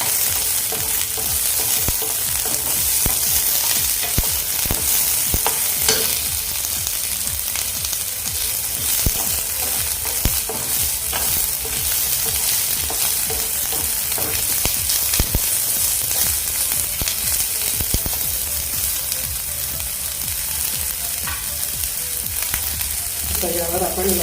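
Close, steady sizzling from a pan of sautéing food, with frequent spatula scrapes and stirring clatter over a dense frying hiss, no voices.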